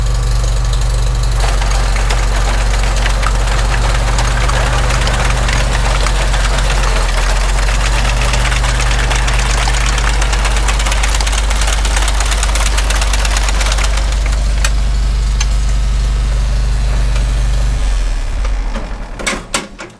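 A vintage Farmall Super M tractor engine chugs and rumbles steadily at close range with a knocking low throb, then slows and cuts out near the end.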